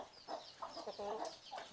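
A brooding hen sitting on eggs in a farm coop gives a run of soft, low clucks, close but quiet, with no one talking.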